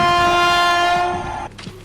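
A train at a railway station near the India–Bangladesh border sounds a loud, sustained horn blast up close, which cuts off abruptly after about one and a half seconds, leaving a quieter rumble.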